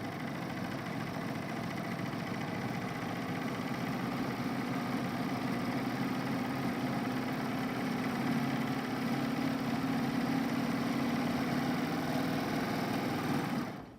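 A quilting machine hums steadily and continuously for about fourteen seconds as it stitches curvy serpentine lines, a close, even motor drone without pauses.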